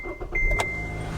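A 2013 Kia Forte EX engine catches and settles into a steady low idle within about a second. A brief whir and click precede the start.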